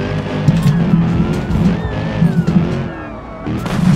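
Hellcat-swapped minivan in the BeamNG Drive video game revving hard while all four tires spin, a loud continuous engine roar with a wavering pitch, close up.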